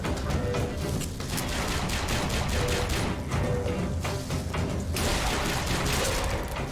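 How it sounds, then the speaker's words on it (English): Continuous gunfire rattles through a Bioshock Infinite battle, dense overlapping shots and bursts filling the whole stretch at a steady, loud level without letup. "They're all shooting at the thing."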